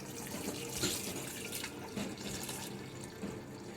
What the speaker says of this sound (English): Puts fresh water in.